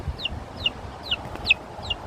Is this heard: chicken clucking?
yes